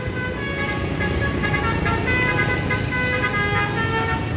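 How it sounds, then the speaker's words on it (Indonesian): A truck sounds its basuri horn amid steady, loud road traffic, the horn's tones running continuously through the dense engine and roadway noise. "Truk dengan basuri."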